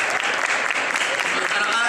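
Dense, continuous clapping from a convention audience at a Japan Pop Show Bordeaux 2024 panel with dubbing voice actors, steady and fairly loud across the whole moment.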